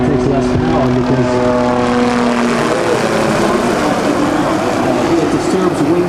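Hughes 500 helicopter flying a demonstration at Rotorfest 2008, a steady loud engine and rotor drone with a shifting tonal hum that runs throughout, with a voice talking over it.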